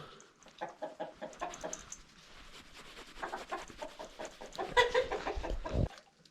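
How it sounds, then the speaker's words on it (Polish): A rooster and chickens cluck in a rapid, uneven series of short calls, moderately close, ending with a brief louder flurry. "Kogut się na ciebie patrzy"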